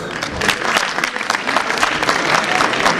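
Audience applause at a university alumni meet, a dense sustained wash of many hands clapping that swells slightly and fills the whole stretch without a break.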